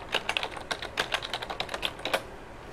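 Typing on a small Dell computer keyboard gives quick, irregular clusters of light plastic key clicks, close and clear in an otherwise quiet room.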